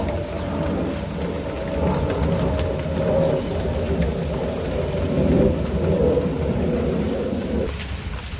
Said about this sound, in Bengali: আবার শুরু হয়েছে বৃষ্টি